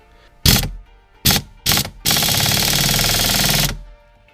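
A 2016-2024 Camaro steering wheel bolt is tightened and torqued with a power ratchet tool: three short loud bursts, then one sustained buzzing run of about a second and a half, close and alone.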